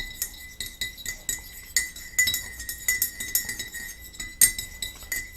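A spoon clinks against a cup while stirring Winter Park dandelion honey into hot tea, a brisk run of bright, repeated taps heard up close with no talk.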